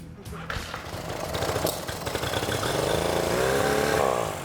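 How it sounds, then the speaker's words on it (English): An outboard boat engine, started again after being flooded and dried out, runs steadily with a rough mid-range drone that builds slightly in loudness, close and continuous with no talk. "But I got the engine right up and running."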